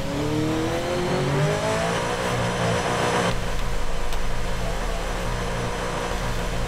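A car in the Forza Horizon 5 racing game accelerates at full throttle, its engine revving up through rising tones before shifting into a steady, loud high-speed roar with no talk over it.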